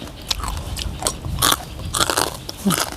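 Close crunchy bites and chewing of crispy fried pork rinds eaten alongside Thai rice noodles in curry, several sharp crackling crunches in quick irregular succession.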